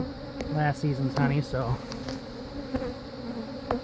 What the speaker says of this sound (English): You see how pissed off the bees are getting now?